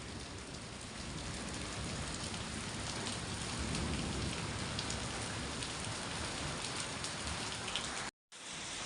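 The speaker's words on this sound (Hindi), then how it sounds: "और बरसात हो रही है, अच्छी बात है" Steady rain falls on a garden, a dense, even hiss of drops that holds at the same moderate level throughout, with a brief dropout near the end.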